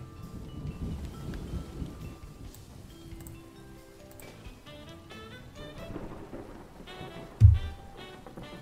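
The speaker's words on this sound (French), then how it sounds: "Là, j'ai remis l'orage." Replayed recording of a thunderstorm with rain, a quiet rumble and patter under faint background sounds, with one brief louder thump near the end.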